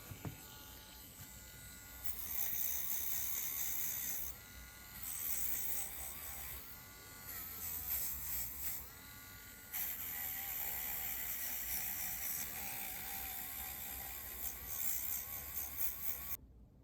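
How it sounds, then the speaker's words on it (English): A Dremel rotary tool fitted with a wire brush cleans leftover paint off a small die-cast Matchbox Cougar Dragster body, whirring in a steady high buzz close by, pausing briefly and resuming several times. "I'll clean the rest off with the wire brush on the Dremel"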